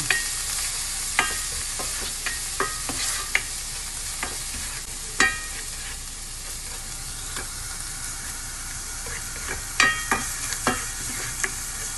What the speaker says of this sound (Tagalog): Igisa natin ang sibuyas. Hanggang magiging golden brown ang sibuyas bago natin ilagay ang bawang.